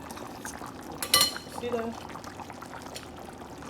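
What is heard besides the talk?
pouring water into egusi sauce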